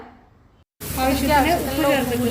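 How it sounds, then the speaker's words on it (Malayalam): Onion and crushed garlic sautéing in hot oil for a ridge gourd curry; after a short quiet gap a loud, close sizzle starts abruptly and keeps going while a voice talks over it. "വെളുത്തുള്ളിയും കൂടിയും ചേർത്തിട്ട് നന്നായിട്ട് അങ്ങോട്ട് വഴറ്റുക"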